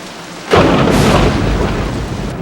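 Cartoon rainstorm: a loud thunder crash breaks in, then a steady downpour with a second rumbling swell of thunder, no speech.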